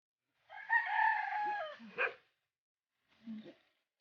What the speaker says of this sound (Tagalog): dami silang manok pansabong